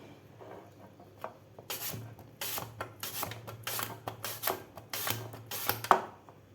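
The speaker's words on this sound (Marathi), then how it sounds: "अशा प्रकारे पातळ असे आपल्याला काप करून घ्यायचे आहेत बटाट्याचे सुरुवातीला" A knife cuts unpeeled potatoes into thin slices with a series of quick, crisp scraping chops, close and distinct, in irregular bursts over a quiet background.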